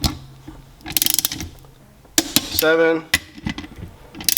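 A torque wrench set to 30 tightens the larger bolts on a Sea-Doo 717 engine during a rebuild, giving quick bursts of close ratcheting clicks and a longer buzzing ratchet run, while a voice counts a number.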